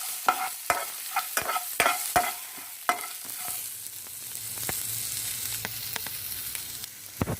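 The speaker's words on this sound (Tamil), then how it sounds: "இது நல்லா வறுத்துக்கோங்க." Chopped small onions fry in a pan for a vegetable salna, with a run of sharp spoon-scraping stirs at first, then a steady, close sizzle with occasional clinks.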